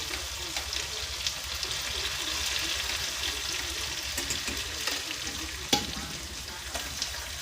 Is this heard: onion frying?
yes